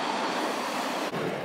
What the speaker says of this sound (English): Oh, a train's coming.